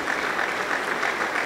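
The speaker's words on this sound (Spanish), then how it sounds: "Aplauso para el Señor Jesús." A congregation claps during a church service, dense steady applause filling the short moment at moderate distance without voices.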